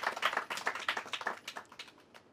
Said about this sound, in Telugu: ఆవిడ గట్టిగా చప్పట్లతో అభినందనలు తెలియజేద్దాం